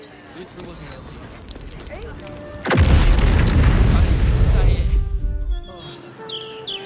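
A sudden loud explosion in Baldur's Gate 3 booms and rumbles for about two seconds, then fades back to quieter game sounds with some faint tonal effects.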